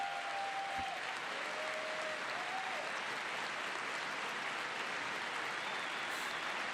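Members of Congress applaud a presidential address in the House chamber, a sustained wash of many hands clapping that holds steady and fairly faint throughout, with brief tonal beeps near the start.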